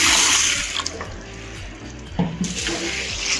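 Whole urad dal being rinsed under a running kitchen tap, a steady close splashing stream of water with brief surges and clinks as the grains are stirred and swished in a vessel, no voices.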